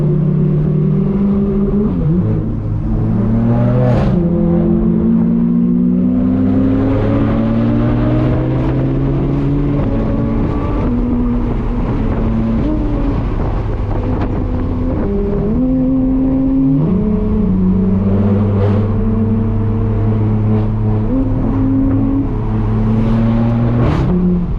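A straight-piped BMW M4 F82 drives through its gears with a loud, raw exhaust drone from inside the cabin, rising and falling in pitch with repeated acceleration and shifts, continuous and unbroken, with no talking.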